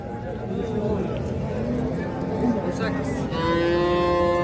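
Cattle at a busy livestock market moo repeatedly, long low calls rising over a steady crowd hubbub, with people talking nearby.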